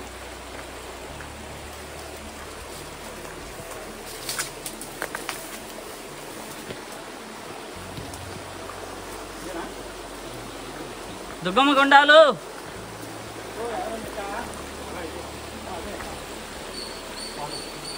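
A mountain stream on the ancient footpath to Bhairavakona in the Nallamala forest flows with a steady, hissing rush throughout. Brief voices and a short louder burst break in partway through.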